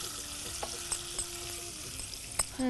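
Food fries in a handiya cooking pot with salt added, a brief, moderately faint, steady sizzle dotted with a few light clicks of a utensil, with no one speaking.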